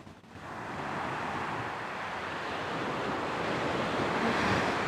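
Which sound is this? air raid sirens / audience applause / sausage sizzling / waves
waves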